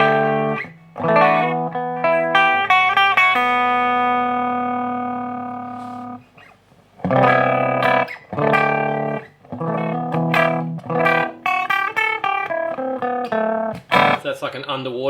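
Guitar run through a Quaverato harmonic tremolo pedal, chords and notes wobbling with a watery, underwater-like phasing pulse, starting and stopping in bursts, fairly loud and close.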